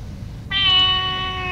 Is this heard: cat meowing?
yes